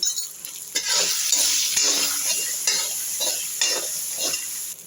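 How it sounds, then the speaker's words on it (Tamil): Onions with curry leaves, salt and turmeric sizzle and are stirred in hot oil in a pan, a steady close frying hiss broken by repeated scraping stirs, with no talk. "தேவையான உப்பு போட்டால் சீக்கிரமாக வெங்காயம் வதங்கிடும்"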